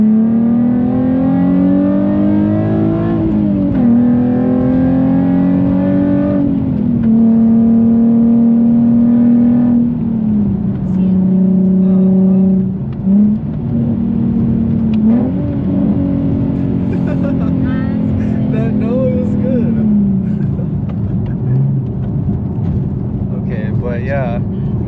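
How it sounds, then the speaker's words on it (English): A Nissan Z sports car, either a 2014 370Z or a 2023 400Z, revs steadily from inside the cabin, its engine note rising and dipping through rev-matched downshifts, with people talking throughout. "let her know how good the rev match downshifts were"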